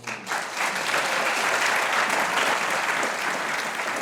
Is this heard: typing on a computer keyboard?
no